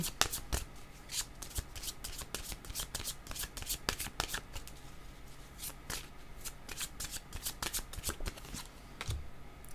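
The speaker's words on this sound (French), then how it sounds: "Je vais demander une autre carte d'un autre jeu." A deck of cards shuffled for a card reading, heard up close as rapid, rippling riffles and soft flutters repeating throughout, fairly quiet with no talking.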